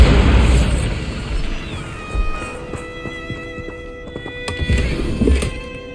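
Bombarda spell explosion in the Hogwarts Legacy video game: an opening booming blast followed by scattered thuds and crackling bursts over a ringing magical tone, fairly loud with no voices.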